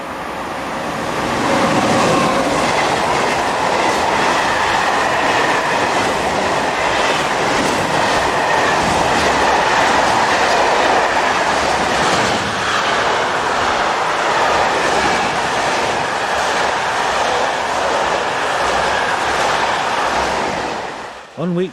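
Train 22225 rolls west past the closed station at Vierzon, a loud, steady roar of wheels and rail clatter that holds for about twenty seconds before cutting off abruptly.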